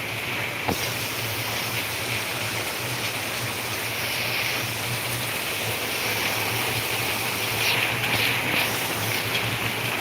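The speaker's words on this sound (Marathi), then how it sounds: "पाऊस बघा फक्त पाऊस" Heavy monsoon rain pours steadily during a red-alert downpour in Ahilyanagar, a constant broad hiss of water with a low steady hum beneath and brief brighter splashes near the end, no voices.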